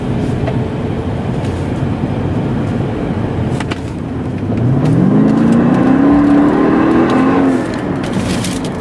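A Mercedes-Benz CLK550 with the AMG package accelerates hard along a road, its engine rising in a loud climbing whine and roar up close with strong road rumble underneath.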